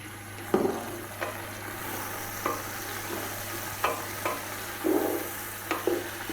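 Four medium chopped onions dropped into a cup of hot cooking oil in a pot sizzle in soft bursts over medium heat, with scattered clacks and scrapes from stirring against a low steady hum.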